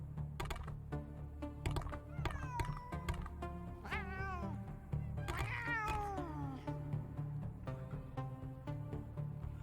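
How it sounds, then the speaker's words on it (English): Feral cats meowing and caterwauling in the video game Sense: A Cyberpunk Ghost Story, with several drawn-out, wavering meows over a low steady hum and soft keyboard-like clicks, no talking. "Why are there cats here?"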